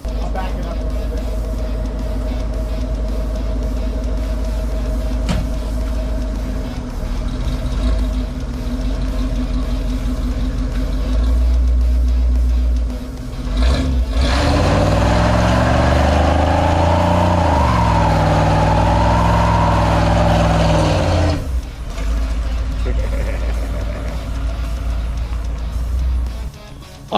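A 1979 GMC Vandura G25 van with a Holley Sniper 2 fuel injection setup idles, backs up and drives off, its engine rising to a loud, steady roar mid-clip before settling, with someone speaking over it.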